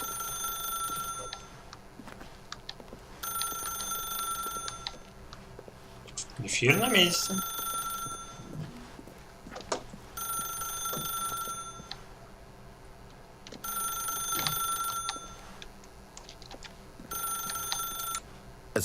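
In The Stanley Parable, a telephone rings in repeated electronic bursts separated by pauses, fairly clear and close, while someone speaks over it in the middle.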